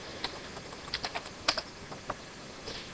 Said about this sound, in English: you want to type in utorrent